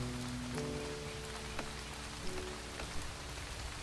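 Steady rain falls in the Starbound video game, a dense even patter of drops on surfaces with a few louder drips, heard alone without talk.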